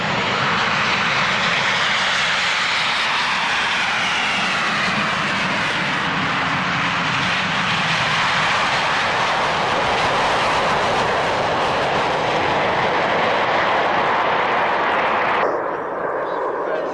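Formation of military jet aircraft taking off at the Woodford Airshow in 1999, a loud sustained roaring engine blast with shifting pitch as they roll and climb, heard from the crowd line and easing off at the very end.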